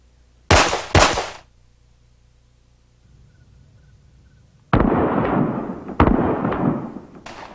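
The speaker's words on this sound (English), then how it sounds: "You're going to engage the target with 2 shots." Two sharp pistol gunshots fired in quick succession during low-light shooting practice, loud and close, followed by quiet and then a burst of noisy movement and a further loud crack.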